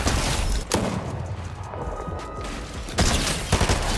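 Gunfire in the console game Fortnite during a ranked match, loud bursts of shots opening and closing a short stretch with a quieter gap between.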